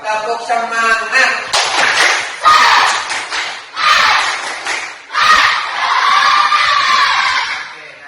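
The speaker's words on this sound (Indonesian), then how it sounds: "Tepuk semangat." Children at a school morning assembly chanting the tepuk semangat routine, loud bursts of rhythmic group clapping mixed with shouted chant lines, close and energetic, with one voice leading at the start.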